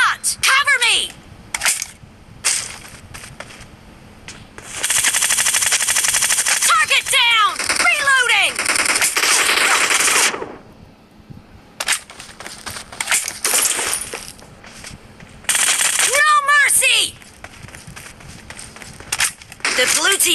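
Bursts of automatic gunfire from the mobile shooter PUBG Mobile, loud and close, come in several long sustained volleys with short rapid shots between them, layered over game announcer voices and players talking.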